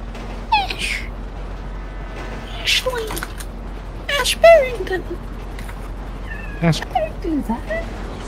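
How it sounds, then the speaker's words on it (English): A cat gives several short, scattered meows and cries from close by, interleaved with someone talking in the background. "Oh, I hear a kitty."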